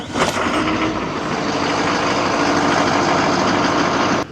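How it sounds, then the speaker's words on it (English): A truck engine catches and settles into a steady, loud idle, a low rumbling drone that holds evenly before cutting off at the very end. "Try your truck, make sure it starts."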